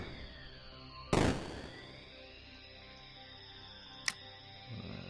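A weapon volley fires on a space station in the space strategy game Underverse: one sharp burst followed by a decaying tail, then a smaller crack a few seconds later, over a faint electronic hum.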